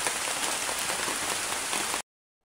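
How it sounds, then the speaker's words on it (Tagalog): Heavy rain pours steadily on a rural coconut farm during copra making, a dense, loud, continuous hiss of drops striking surfaces that holds unchanged for two seconds, then cuts off abruptly to silence. "Yan o, lakas ang ulan."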